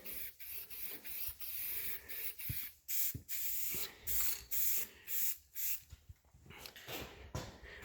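Short, repeated bursts of hissing spray, about a dozen in quick rhythm, as pink paint is sprayed onto a 1955 Dodge to match old patina, close and moderately loud with no talking.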